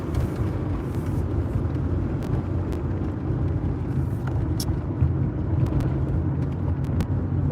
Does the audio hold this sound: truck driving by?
yes